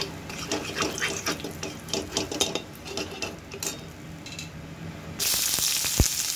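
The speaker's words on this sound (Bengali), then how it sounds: "আলু ভাজতে দিয়ে কড়াইটা একটু দিয়ে রাখবো" Potatoes fry in a wok, crackling and sizzling in uneven bursts, then a louder, steady hiss takes over near the end, with one sharp knock just after it.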